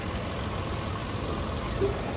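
A 2023 Tata Punch's 1.2-litre three-cylinder Revotron petrol engine idles with the bonnet open, a steady, even low rumble close by with no talking.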